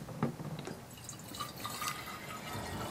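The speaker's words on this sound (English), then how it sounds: "Now, we're going to add 1 liter or 1 quart of water" Distilled water, about a liter, is poured into a container, giving a soft continuous trickling and splashing with a few brief drips, fairly quiet and heard alone.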